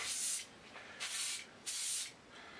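After cleaning with thinners, an airbrush fires three separate close, loud bursts of spray hiss, each lasting about half a second, with short quieter gaps between them.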